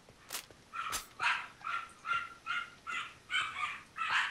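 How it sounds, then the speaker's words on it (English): A dog barks in an even series of about eight yips and barks inside a house, fairly faint and a little distant, with no one talking over it. "That's my dog. I know it's annoying."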